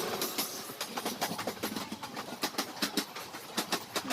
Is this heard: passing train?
yes